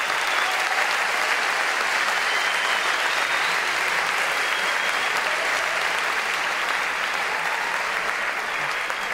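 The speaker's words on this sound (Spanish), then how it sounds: "Les pido un fuerte aplauso por ustedes que agotaron las entradas del salón en 10 días" A large conference audience in a sold-out hall applauds loudly and steadily, a dense wash of clapping that holds at an even level for about nine seconds with no voices heard.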